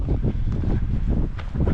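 Wind buffets the microphone at Newcastle Reservoir in southwestern Utah, a steady rumbling roar with gusty low-end swells and no voices.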